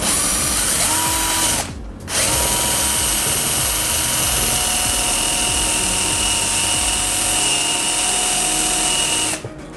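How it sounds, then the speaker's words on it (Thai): A DELTON 99V cordless drill whines steadily at high speed for several seconds drilling into pallet wood, pausing briefly once before spinning up again, loud and close. "เดี๋ยวจะลองเจาะไม้นี่ให้ดูนะครับอันนี้เป็นไม้ ไม้ลังนะไม้"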